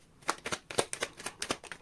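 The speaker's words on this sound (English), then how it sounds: "last shuffle" Tarot cards are shuffled by hand in close, crisp bursts of riffling, about eight quick ruffles in a steady rhythm with no voices.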